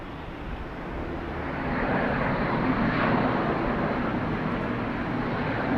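Airliner passes at Dallas Love Field, a broad jet roar that swells over the first two seconds and then holds steady and loud without fading.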